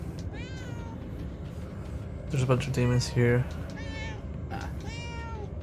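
Repeated cat meows in Murdered: Soul Suspect, close and clear over a constant low hum, with someone talking briefly between the early and later calls.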